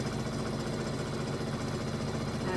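A sewing machine stitching steadily while quilting, giving a constant, fairly quiet mechanical hum and rapid vibration that runs without a break and has no voices over it.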